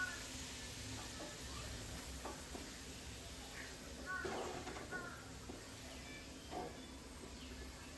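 Onions sizzling in hot oil in a pan for Bengali chicken kosha, a steady low frying hiss with occasional stirring clinks, moderately quiet and continuous.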